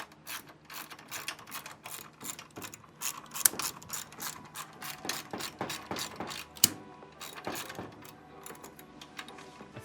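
A hand ratchet removing bent bolts from the footboard bracket on a wrecked motorcycle's frame: quick repeated clicking strokes in bursts, close up, with a couple of sharper metallic knocks.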